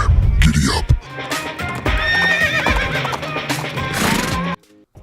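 A horse sound effect of a shrill neigh and whinny over rapid galloping hoofbeats, loud and busy, ending abruptly after about four and a half seconds.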